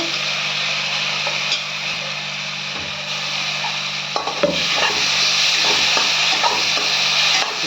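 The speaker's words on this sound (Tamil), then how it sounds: "இப்போ அரைச்சி வச்ச இந்த கொத்தமல்லி தழை பூண்டு பச்சை மிளகா இதை போட்டு நல்லா வதக்குங்க" A paste of ground coriander leaves, garlic and green chili sizzles steadily in a hot pan for coriander rice, with a spoon scraping and stirring through it at close range and no voices.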